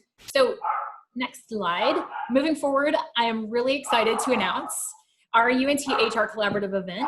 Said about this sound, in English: I'm sorry if you guys can hear my dog losing his mind in the background